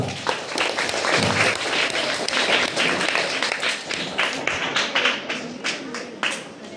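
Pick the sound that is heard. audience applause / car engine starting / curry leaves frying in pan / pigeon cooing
audience applause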